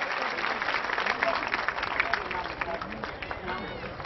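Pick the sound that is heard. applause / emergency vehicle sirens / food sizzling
applause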